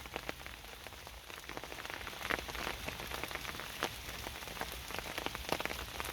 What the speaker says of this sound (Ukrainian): Краплинка за краплинкою, краплинка за краплинкою стікає з поверхні цих яблучок.